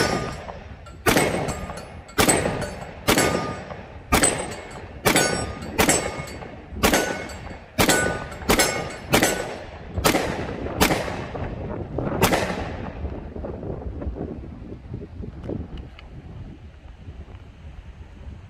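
A 10mm S&W M&P 2.0 pistol with a 4-inch barrel firing coated 180-grain bullets, about fourteen sharp, loud outdoor shots in a steady string, each with a ringing decay, then fading echo.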